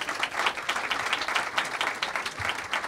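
Audience applause fills a small bookstore gathering at Politics and Prose, steady dense clapping from a modest crowd, fairly close and sustained without pause.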